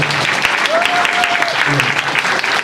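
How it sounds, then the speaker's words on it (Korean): Audience applause fills a school chapel service at a foreign language high school, steady and loud throughout, with a voice briefly heard over the clapping. "먼 곳에서 오신 우리 최진봉 목사님께 다시 한번 큰 박수로"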